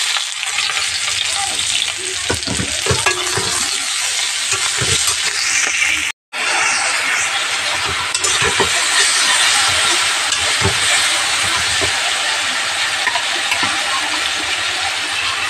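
Chopped onion frying in hot oil with whole garam masala and cumin, a loud, dense, continuous sizzle with scraping stirs throughout, cut by a brief sharp dropout midway before the hiss resumes just as strongly, with no speech.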